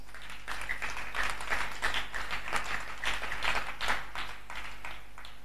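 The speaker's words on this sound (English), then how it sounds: "A hand clap to Jesus." A church congregation claps together in a steady, rhythmic beat, moderately loud, continuing for several seconds without talk.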